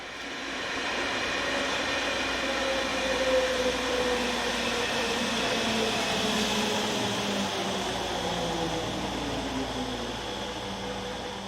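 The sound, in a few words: S-Bahn train units 4020-264 and 274 arriving from Gunzersdorf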